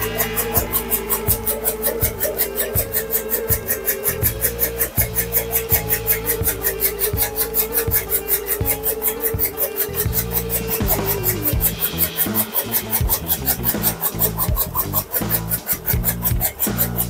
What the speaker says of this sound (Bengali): এই যে এখন আমরা ডাইগো কাটি দেখাবো, এটা হচ্ছে নারিকেলের ডাইগো